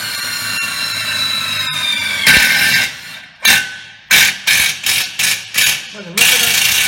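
An Einhell cordless impact driver drives a screw, rising into a loud whirring run, then fires a rapid series of short, sharp hammering bursts up close with brief pauses between them.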